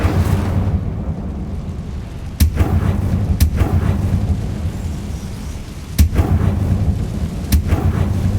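Incendio fire spell cast in Hogwarts Legacy, heard as sharp, booming bursts at irregular intervals over a steady low rumble, with no talking.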